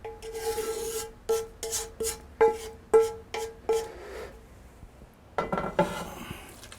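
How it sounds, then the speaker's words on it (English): A spatula scrapes caramelized onions from one pan into another: about eight distinct, close rasping strokes in a row, a short pause, then a denser burst of scraping. "go around the other side and transfer all of this to that pan"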